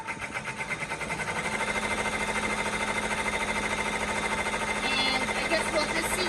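An embroidery machine stitching a fabric scrap applique letter, a steady rapid mechanical chatter running continuously throughout at close range, with faint voices in the background.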